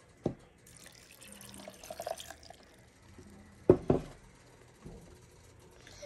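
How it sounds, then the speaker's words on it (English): A little water trickles and splashes from a tap into a container while cooking, with a few soft clunks and drips in a quiet kitchen. "Now I'm gonna add some water. Just a little bit of water."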